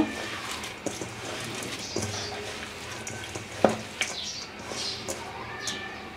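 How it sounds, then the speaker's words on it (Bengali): Chopped pumpkin flowers fry with softened onions in a pan for an egg bhaji, a steady close sizzle broken by scraping stirs and clinks of the spatula, fairly quiet and with no voices. "এখন আমি এর মধ্যে দিয়ে দেব কুচানো ফুলগুলো আবার একটু কষলিয়ে নেব"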